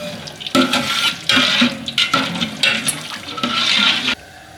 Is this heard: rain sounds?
no